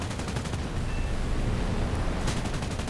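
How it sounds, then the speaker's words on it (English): Cannons of a P-47 aircraft firing in a flight video game, a continuous dense roar of rapid gunfire with a sharper burst near the end, loud and alone. "These cannons are insane."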